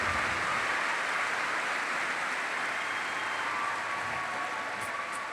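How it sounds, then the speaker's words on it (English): An audience at an evening event with President Obama applauds the Erie School District students, a steady, even wash of clapping that fades slightly toward the end. "How about a round of applause for those students in the Erie School District?"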